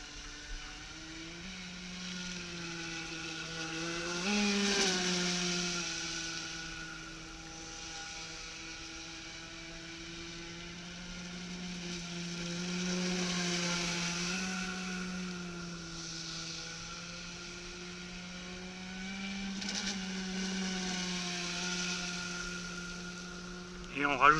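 Navicraft Rebel 12s RC boat's electric motor runs steadily on the water with a sustained harmonic whine that swells and eases several times, moderately close, with no talk over it.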